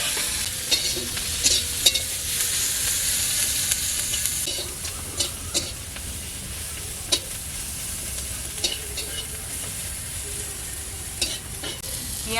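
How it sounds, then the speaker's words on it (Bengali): Onion and green chilli paste fries in oil, a continuous close sizzle and hiss with frequent sharp spatter pops and stirring, no voices. "পেঁয়াজ ভাজা হয়ে গেছে, আদা রসুন একটু সামান্য অল্প করে দিচ্ছি, বড়ি দেবো বলে একটু ভেজে নিচ্ছি"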